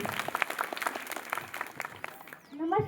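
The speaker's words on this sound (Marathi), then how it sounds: "जोरदार टाळ्या तुझ्यासाठी" Loud clapping from a classroom of schoolchildren at a village school Republic Day quiz event, dense and continuous for about two and a half seconds, then tapering off as a voice begins speaking at the end.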